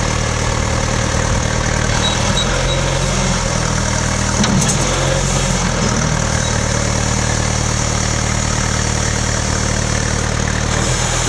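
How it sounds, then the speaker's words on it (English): A John Deere 310B backhoe with an 88-inch front bucket and 24-inch hoe bucket idles steadily at an auction, its diesel engine giving a loud, continuous low rumble with a faint mechanical rattle and no voices. "This is the John Deere 310B backhoe being sold."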